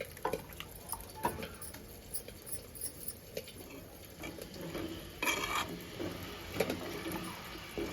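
Fish curry being stirred in a pot, soft irregular scraping and clinking of a spoon with gentle wet bubbling and light sizzle, faint and close, no talk.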